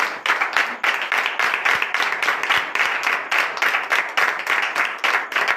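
A church congregation claps in a fast, even rhythm throughout, a dense steady beat of many hands that continues alone without pause and without any talking.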